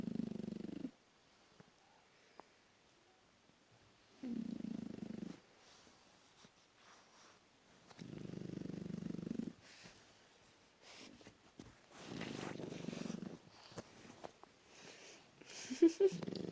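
A person snores in a quiet room, with low breathy rasps returning at a slow, regular pace every few seconds and near silence between them.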